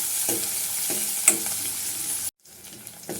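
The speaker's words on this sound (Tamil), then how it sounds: "பெரிய வெங்காயம் ஒரு வெங்காயம் கட் பண்ணி வச்சுருக்கேன் அதை போட்டுக்கலாம் நல்லா வதக்கிக்கலாம் நல்லா செவந்து வரட்டும்" Chopped large onion sizzles in a hot pan for a Tamil pepper-garlic kuzhambu, steady frying hiss with a few stirring scrapes, briefly cutting out before the sizzle resumes.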